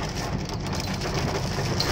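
Steady heavy rain pours down with a dense, constant hiss, close and loud with no voices.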